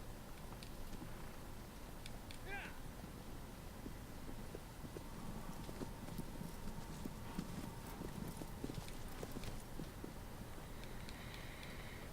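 Horse hooves clip-clop at a steady trot in the video game Shadow of the Colossus, a quiet rhythmic patter under faint wind and background ambience.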